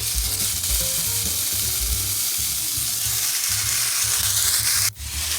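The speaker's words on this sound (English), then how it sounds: "Next, we're going to add in our ground beef." Ground beef frying in a pan with onion and garlic, giving a steady close sizzle throughout and a faint scraping stir, with no talk.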